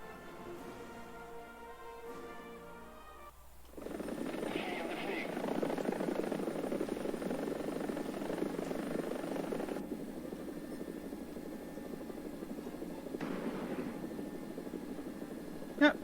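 In the War Thunder video game, a Swedish helicopter spools up and flies with a steady rotor and engine drone, after an earlier quieter engine hum; the drone stays loud and continuous.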